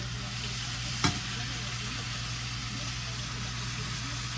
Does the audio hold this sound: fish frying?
yes